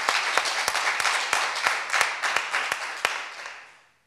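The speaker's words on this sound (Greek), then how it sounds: "Το χειροκρότημά σας στο Μανολιό." Audience applause at a Cretan music celebration with musicians, a dense run of clapping with some sharp individual claps standing out, fairly close, swelling then fading away toward the end.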